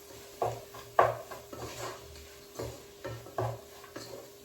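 A spoon stirs and mixes curry in a pan, making a series of irregular scraping and clanking strokes close up, with a faint sizzle underneath and no talk.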